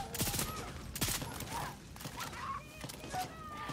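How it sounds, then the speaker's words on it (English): Gunfire in Far Cry 6: dense, rapid bursts of shots crackle through the first half, then sporadic pops and whines continue under a busy game soundscape. "I'm really tired of getting shot at."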